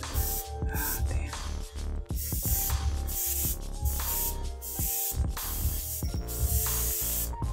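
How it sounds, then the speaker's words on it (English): Steady, close hiss of an airbrush spraying paint onto sight tapes for a model airport, running almost continuously with a few brief breaks, over a faint tonal hum. "just spraying paint on the sight tapes"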